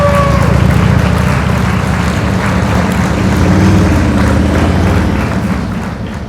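A motorcycle engine runs steadily at low revs during slow speed riding practice, a loud continuous rumble close by that eases slightly toward the end.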